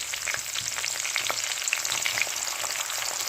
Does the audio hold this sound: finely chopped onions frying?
yes